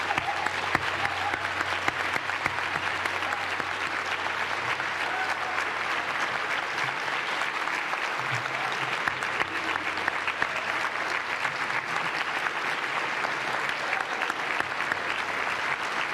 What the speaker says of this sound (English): We'll go house lights up and give them a round of applause.